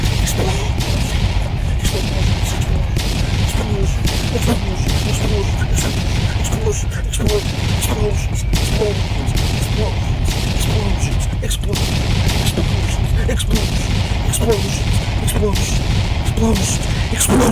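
Dense bursts of gunfire and booming explosions crash continuously, loud and chaotic like a battle scene.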